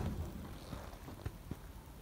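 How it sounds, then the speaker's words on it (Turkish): Steady rain falls in a garden, a soft continuous patter with a few faint taps and drips, heard alone without voices. "Yağmur da bir taraftan yağıyor."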